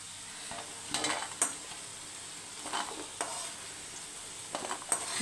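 Hot oil left from frying potatoes sizzles softly in a pan, broken by several sharp stirring scrapes and light utensil taps, quiet and close with no voices.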